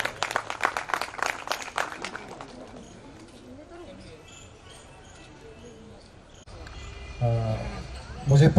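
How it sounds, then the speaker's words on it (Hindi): Audience applause at an International Human Rights day function in Nagda, a burst of close clapping at the start that fades into softer scattered claps, followed by a quieter stretch with a voice and some handling noise. "गौरव यादव जी के लिए तालियां बजाई जाए।"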